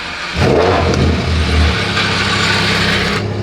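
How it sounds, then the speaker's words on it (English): A Lamborghini's front-end lift raises the nose of the car with a loud, steady mechanical whir and hum that starts abruptly and runs for about three seconds, with no talking. "let's turn on the front end lift."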